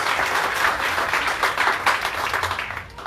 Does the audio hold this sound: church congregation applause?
yes